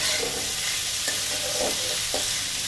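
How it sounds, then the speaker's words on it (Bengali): Sliced onions and spices frying in a pan for chicken manchurian, a steady close sizzle with a few light stirring scrapes, no voices. "ভালোভাবে ভেজে নিচ্ছি যাতে কাঁচা ভাব না থাকে।"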